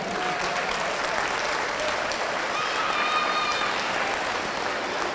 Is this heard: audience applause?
yes